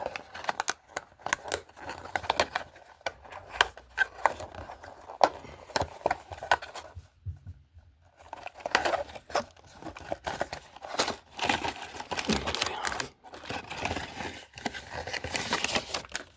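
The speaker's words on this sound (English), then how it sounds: "So again, carefully with the knife. Just cut that gently." A knife cutting open the packaging of a Batman figure, with irregular close scraping, slicing and crinkling of cardboard and plastic in short bursts and a brief pause midway.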